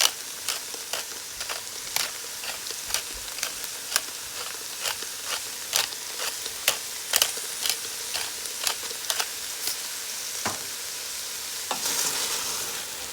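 Bora and chicken sizzling in a pot on Guyanese lunch cooking, with steady frying hiss punctuated by a regular series of clicking spoon-against-pot strikes as the ingredients are stirred, close and continuous.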